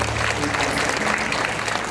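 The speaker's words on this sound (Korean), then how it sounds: "늘 우리 함께하신 주님께 감사의 박수 올려드립니다." Church congregation applauding in thanks to the Lord during a worship service, loud sustained clapping from many people, dense and unbroken, with music faintly underneath.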